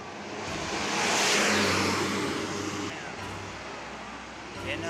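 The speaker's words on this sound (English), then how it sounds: "my bus shows up" A city bus pulls up and drives off along a street, its engine swelling close by and then fading away over a few seconds, with traffic noise around it.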